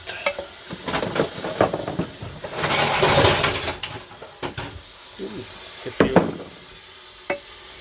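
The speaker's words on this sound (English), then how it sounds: "If you're wondering what the noise is in the back, that's my old lady, my wife actually, doing dishes." Dishes are washed in a home kitchen behind someone cooking sauerkraut, with scattered clinks and clatters of silverware and a burst of running water, moderately near.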